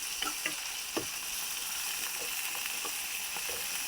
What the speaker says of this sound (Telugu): ఇవి కొంచెం కలర్ వచ్చేటట్టు వేయించుకోవాలి.